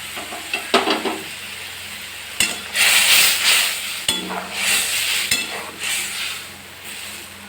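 Prawns go into a pan of onion, garlic and ginger curry with water just added, bringing a loud broadband sizzle in bursts, with stirring scrapes and occasional metal clinks against the pan, no voices.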